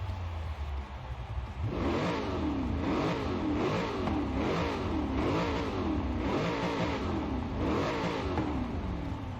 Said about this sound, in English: due to the supercharger whine, I enjoyed the Demon's noise a bit more